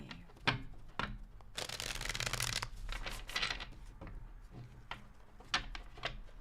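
A deck of tarot cards being shuffled nearby. A few sharp taps and riffles lead into a long, bright riffle burst, followed by scattered card snaps and slides. The handling is quiet and close, with no talking.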